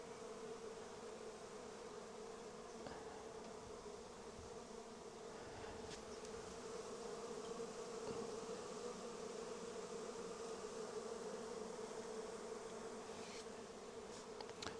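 Bumblebees of several species and honeybees buzzing on a flowering cotoneaster plant, a faint, steady, continuous drone with occasional closer passes.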